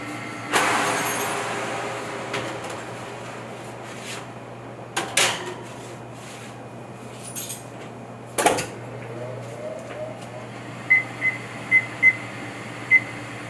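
Egg-washed challah bread going into a convection oven set to 325 degrees: a few scattered thuds and clunks from the door and tray against a low hum, then a run of short electronic beeps as it is set.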